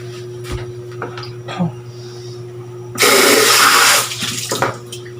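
Vegetables boil in a covered cooking pot in a home kitchen, with a loud, steady rush of bubbling and hissing for about a second, surrounded by faint clinks and a low background hum.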